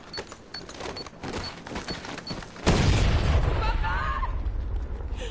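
A bomb goes off in the Far Cry 6 video game, a sudden deep boom halfway through that follows lighter clicks and popping and then rumbles on loudly with scattered debris crackle.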